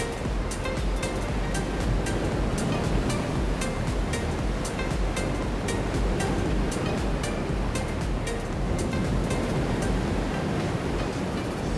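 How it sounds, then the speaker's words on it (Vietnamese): Gentle waves wash in at Ky Co beach in Vietnam, a sheltered cove below mountains where the sea is calm, giving a steady soft surf wash with faint repeated clicks and no talking. "Biển ở đây rất là êm và trong xanh."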